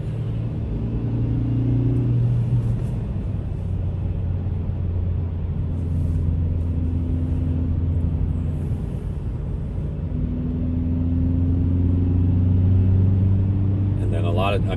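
A Kia Forte GT with a manual gearbox cruises on the road, likely in fifth gear toward a freeway on-ramp, giving a steady low engine and road rumble inside the cabin while someone talks throughout.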